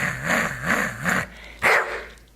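A dog barks three times in a steady rhythm, fairly close, followed by one sharper bark after a short pause, with a low engine-like hum underneath.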